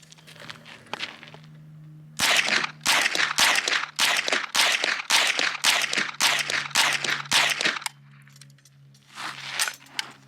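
A .22LR rifle fires CCI Mini-Mag Varmint ammunition in a quick string of about a dozen sharp, close cracks, evenly spaced over several seconds, followed by a quiet pause and one more faint burst of noise.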